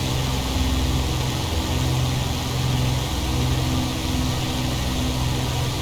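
Steady, loud drone of an aircraft piston engine pulled back to reduced cruise power at 46 inches and 2400 RPM, a continuous rumble with a constant low hum and no pauses.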